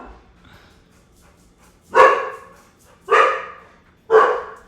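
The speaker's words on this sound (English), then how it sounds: "This dog does not shut up." A pet dog barks at home, three loud, close barks spaced about a second apart over a quiet room.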